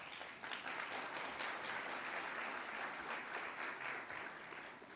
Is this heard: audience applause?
yes